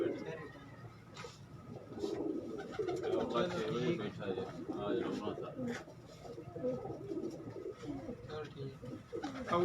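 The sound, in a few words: pigeons cooing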